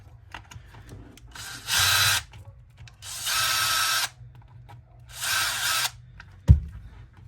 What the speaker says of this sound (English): flip it over and take these two bottom screws out right here